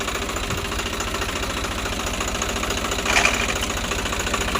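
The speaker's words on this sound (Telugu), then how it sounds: "రివర్స్ వేసినాడు ఫ్రెండ్స్ రివర్స్ గేర్ వేసినాడు" A Swaraj 744 tractor with reverse gear engaged idles close by with a steady, knocking diesel rumble, a brief rise in noise about three seconds in.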